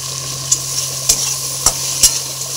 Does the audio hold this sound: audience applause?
no